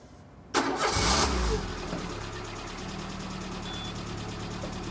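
A car engine cranks and catches with a sharp burst, revs briefly, then settles into a steady low idle, recorded close by.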